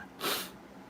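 A single short, breathy cough bursts out from someone speaking at home, close and fairly loud, then fades into quiet room tone.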